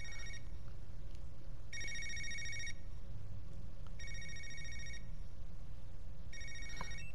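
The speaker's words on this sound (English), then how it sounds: "He's getting a phone call from somebody." Phone ringing in Yakuza Kiwami: four bursts of a bright electronic ringtone, each about a second long, repeat at a steady pace over a low background hum.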